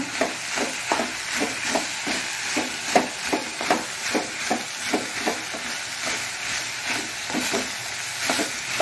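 Snake gourd pieces fry in oil for a padvalakai and jackfruit palya, with a steady sizzle under a regular rhythm of spatula strokes against the pan, close and fairly loud.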